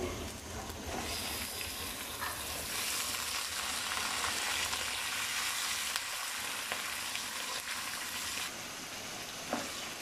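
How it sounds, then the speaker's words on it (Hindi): Chicken frying in a pan with lightly browned onions for biryani makes a continuous dense sizzle with occasional stirring scrapes, steady and close throughout, with no talking. "थोड़ा सा हमने फ्राई किया इसको"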